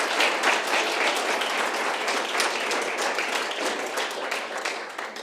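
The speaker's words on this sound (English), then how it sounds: "Please give an applause to Caroline." Sustained applause from a keynote audience at an architecture symposium, steady dense clapping throughout with no talk over it.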